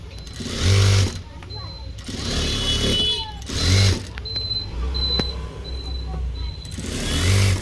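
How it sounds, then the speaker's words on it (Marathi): A sewing machine stitches a blouse in several bursts of fast whirring, close and fairly loud, with someone talking between and over the runs. "एक पॉईंटवरून वरून शिलाई मारून घेणार आहे"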